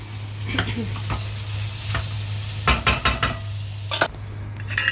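Food sizzles on a hot griddle while a utensil scrapes and clatters against the metal in quick bursts of stirring.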